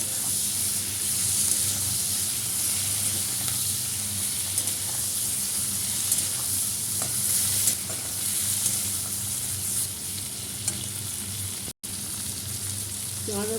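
Onion and tomato sizzle and fry in a pan with a steady hiss, with stirring scrapes now and then and a brief cut near the end; a voice speaks faintly underneath.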